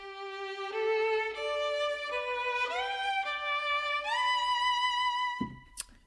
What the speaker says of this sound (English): I'm going to go with the cinematic sustains here